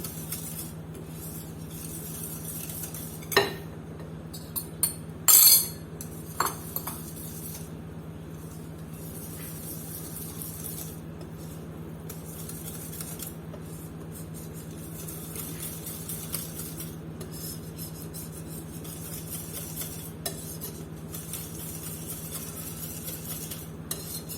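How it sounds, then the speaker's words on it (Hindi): Gram flour whisked into yogurt in a bowl for kadhi batter: scattered utensil clinks and a few sharp knocks over a steady low kitchen hum. "ये जो 1 लीटर दही है उसके अंदर ये थोड़ा थोड़ा करके मैं ये बेसन ऐड करूँगी और इसको अच्छी तरह मिक्स करके इन दोनों का एक पेस्ट बना लूँगी"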